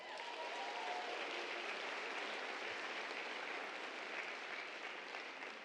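An audience at an evening community talks event applauds continuously, a dense, even wash of clapping from a large crowd, fairly distant and faint, held steady throughout.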